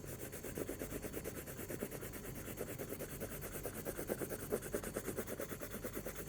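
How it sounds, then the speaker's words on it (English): Steady dry rubbing of colour by hand over a stencil to raise a background pattern, a close, continuous scratchy friction with fine repeated strokes throughout. "the technique is to just rub it in till you get the pattern from the stencils"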